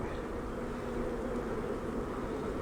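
A large spring swarm of honey bees hums in a dense, continuous low buzz, close and steady throughout.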